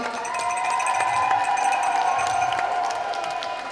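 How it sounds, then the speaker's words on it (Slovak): Guests at a christening party applaud and cheer for high-school graduates. The clapping and crowd noise form a steady, dense wash at a moderate distance, unbroken from start to finish. "Prosím, veľký potlesk"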